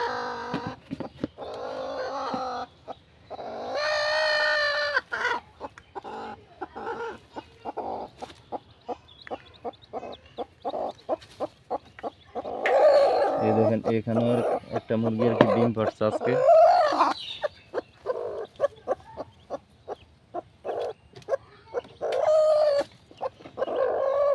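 Hens cluck and squawk close by on a free-range farm where one hen is brooding eggs, their bursts broken by frequent sharp clatter, while someone talks over them.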